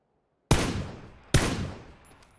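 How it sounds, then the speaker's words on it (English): Two sharp, loud gunshots from the player's own weapon in PUBG, spaced under a second apart, each with a long echoing decay. "It's me shooting."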